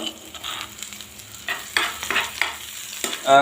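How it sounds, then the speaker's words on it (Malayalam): Crushed ingredients dropped into hot oil, then stirred while frying: a soft sizzle with scraping stir strokes in bursts, close and fairly loud, no talk. "ഇതൊന്ന് നമ്മുടെ എണ്ണയിലോട്ട് ഇടാം എണ്ണ ചൂടായി വന്നിട്ടുണ്ട്"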